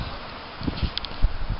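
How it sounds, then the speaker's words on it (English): Wind stirs birch tree leaves outdoors, making a brief, soft, breathy rustle with a few low thumps underneath. "It's a little bit windy."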